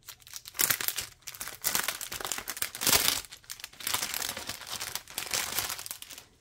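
Plastic packaging of a Harry Potter cross-stitch kit crinkles and tears open in loud, close, continuous bursts with short pauses between handfuls.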